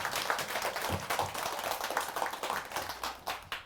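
An audience at a Buddhist dharma service for Buddha's Birthday claps together in a hearty, sustained round of applause, dense and fairly faint throughout.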